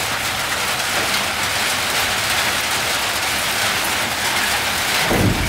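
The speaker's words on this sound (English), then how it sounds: "All right, started raining." Heavy rain falling outdoors in Eritrea, a dense, steady hiss of drops that holds the whole time with a brief thump near the end.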